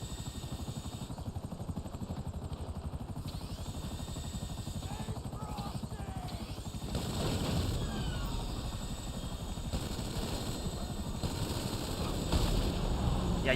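A helicopter in the video game GTA Online thrums with a fast, steady rotor chop and engine whine throughout, growing louder and closer partway through, with no speech.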